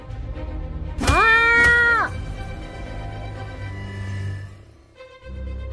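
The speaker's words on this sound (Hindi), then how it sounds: "बिल्ली, तुम पद्दू के पास जाओ" A cat lets out a loud, drawn-out meow over busy background noise, followed by ongoing ambient sound.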